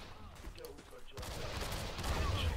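Video game gunfire in rapid bursts, louder and denser in the second half, with a player's voice nearby.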